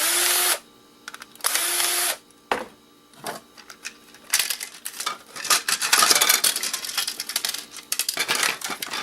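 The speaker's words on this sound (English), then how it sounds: "Pick up all those screws that just fell down too." Small screws clatter and drop while a small alarm console is taken apart for e-waste, with several quick bursts of close metallic rattling and whirring among brief pauses.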